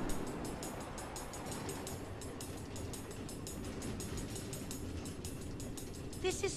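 Minecart rolling along automated rail tracks through the Nether in Minecraft: Story Mode, a steady close rumble marked by regular clacking beats from start to finish, with a brief brighter chime near the end.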